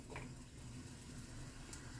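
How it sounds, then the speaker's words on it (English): Water pours steadily into a cooking pot of steaming fish, a soft continuous splashing and trickling that stays faint and even throughout, with no voices. "add some more water"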